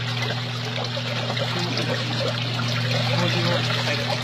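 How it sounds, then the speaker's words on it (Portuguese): Homemade creamy liquid soap pours steadily into a running twin-tub washing machine whose agitator churns water, a continuous close trickle and slosh over a low motor hum. "Aí você pode despejar com o tanquinho ligado, já batendo."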